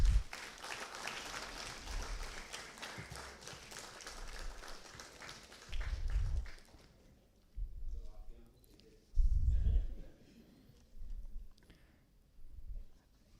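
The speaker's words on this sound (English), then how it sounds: "A big round of applause." An audience applauding at an ISRO event with Group Captain Shubhanshu Shukla, a dense burst of clapping that fades after about six seconds, followed by scattered thumps and quieter movement.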